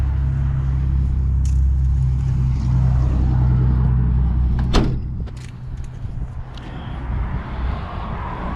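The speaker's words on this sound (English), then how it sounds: "There it goes, raises right back up after you start to close the doors in the rear." Rear doors of a 2023 Ram ProMaster wheelchair van swing shut with a sharp close and a short clunk midway, over a steady low rumble of the vehicle running throughout.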